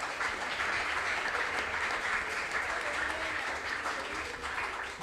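Sustained audience applause for contest winners at a regional quiz competition, a loud, even roll of many hands clapping that holds steady for several seconds, with faint voices mixed in.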